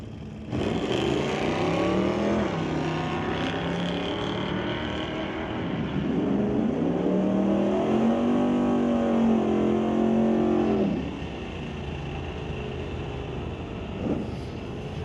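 Two drag cars, a 1968 Dodge Dart and a 2014 Ford Mustang, launch in a bracket race, engines roaring loud and steady with rising revs through the run before dropping off, no talk.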